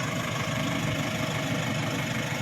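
A portable Ingco air compressor runs while inflating a tire, giving a steady droning buzz with a fast mechanical pulse, loud and close, with no talk over it.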